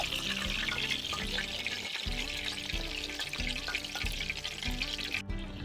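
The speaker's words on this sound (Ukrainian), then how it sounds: "поки в нас друга партія смажиться" Steady crackling sizzle of crucian carp frying in hot oil, continuous and moderately quiet, with faint low clatter underneath.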